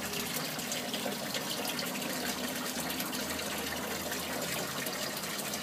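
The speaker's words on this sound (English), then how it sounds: "having such a big stream of water flowing and falling into the fish tank there" Large stream of water pouring and splashing steadily into an aquaponics fish tank, a continuous close rushing gush with no pauses.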